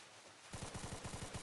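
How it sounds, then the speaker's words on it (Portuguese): Rapid automatic gunfire from Counter-Strike bursts in after a quiet half-second, a loud, evenly spaced string of shots with no talk over it. "Tô tomando tiro da base."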